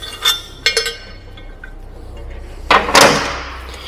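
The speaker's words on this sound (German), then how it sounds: "Dann werden beide Hebel geöffnet und die Ketten eingehängt." Levers opened and chains hooked onto a motorcycle carrier on a Ford Nugget camper: a few sharp metallic clinks and rattles early on, then a louder burst of chain clatter near the end, close and with no talk.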